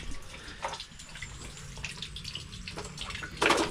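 Water being poured into a crayfish tank on a farm, a soft, continuous splashing trickle with a louder gush at the end, no voices present.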